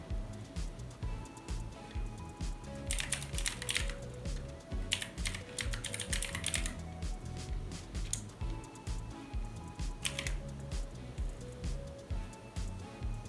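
Computer keyboard keys clatter in quick, uneven bursts as a password is typed, fairly close and steady across the stretch, with a low background hum underneath and no speech.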